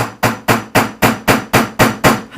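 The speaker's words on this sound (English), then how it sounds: "then you can get a doming punch upon the top, and then you can come along and just hammer" Nine sharp, evenly spaced hammer strikes on a doming punch resting on a metal block, loud and close, ringing with a metallic clang and no talking.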